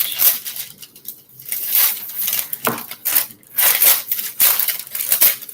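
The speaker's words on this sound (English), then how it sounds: "So let me take the cover paper off of it." Cover paper is peeled and pulled off a large canvas, a loud, close series of crackling, tearing and crinkling bursts in uneven surges with brief pauses, no voices.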